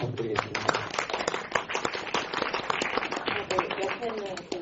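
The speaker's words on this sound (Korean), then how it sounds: "박수 부탁드리겠습니다." Clapping from a film festival Q&A audience welcoming an actress to the stage, a dense scattered patter of hands mixed with voices talking over it.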